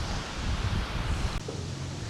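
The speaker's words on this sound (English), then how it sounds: "That gust of wind took forever to pass through." A gust of wind buffets a microphone outdoors in snowy country, a loud, low rumbling rush that ends abruptly partway through and leaves a quieter breeze.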